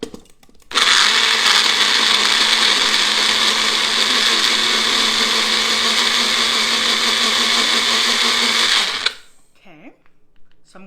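Kitchen blender whirs loudly and steadily for about eight seconds while blending a fruit smoothie, then spins down and stops, leaving faint room noise.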